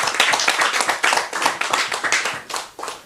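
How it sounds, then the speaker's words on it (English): Applause for a fencing contractor at a public address, with a small-to-medium crowd clapping steadily and unevenly at close range, and no voices over it. "Give him a special round of applause"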